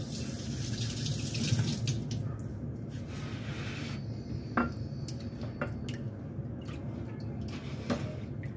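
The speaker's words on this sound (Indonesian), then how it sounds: "Lalu ini ati ayamnya kita bilas menggunakan air bersih seperti ini." Clean water pours from a tap into a container as chicken livers are rinsed in a kitchen, a steady close stream with squishy handling sounds and a few sharp drips and clinks.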